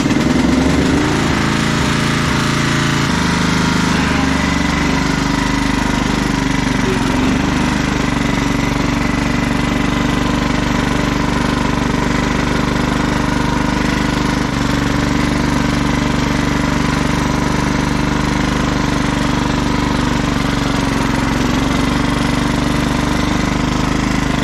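2004 Craftsman LT1000 lawn tractor engine running rough, a loud continuous near chugging drone with an uneven throb for the whole stretch, no voices.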